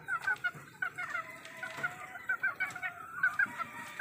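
Hens cluck in a repeated, rhythmic series of close, moderately soft calls, with a few overlapping birds and no talk.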